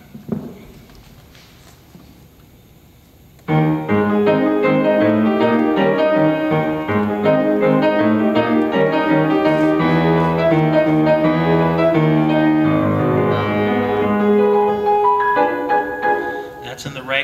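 Ragtime piano tune, played as written in straight ragtime style, a steady rich keyboard melody with bass chords starting after a few quiet seconds and continuing loudly to the end.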